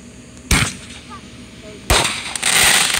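Two loud fireworks mortar shells bursting at a Fourth of July celebration, each a sharp close bang followed by crackling spray, the second blast longer and fuller, with people talking.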